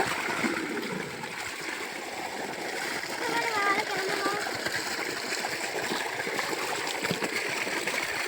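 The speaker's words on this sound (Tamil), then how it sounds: "சாப்பிட்றதுக்கு கை கழுவுறதுக்காக தண்ணி பிடிச்சிட்ருக்காங்க" Water pours and splashes steadily into a container at a farm garden, a continuous trickling stream with faint voices and background noise around it.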